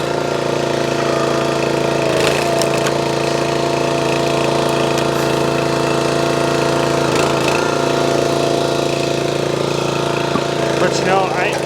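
The engine of a SuperHandy 25 ton log splitter runs steadily nearby with a constant droning hum throughout, while a person talks over it.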